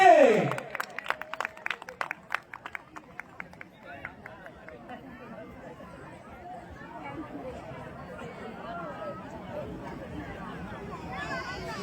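Applause for raffle winners at a school winter carnival, beginning with a burst of hand clapping that thins out and gives way to crowd chatter and babble.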